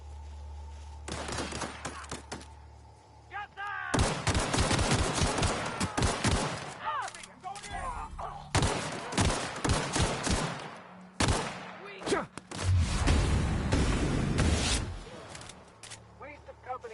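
Gunfire in The Outer Worlds, loud rapid volleys of shots in several bursts separated by short pauses, with a quieter stretch at the start and a heavy low thump near the end.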